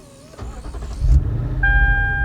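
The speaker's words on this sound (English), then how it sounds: "And now to fire up the ISF, as long as you have the key fob on your person inside the vehicle, all you do is put your foot on the brake." A 2008 Lexus IS F 5.0-liter V8 is started by push button, a brief starter crank catching into a loud, close idle rumble, with a chime tone sounding as it settles.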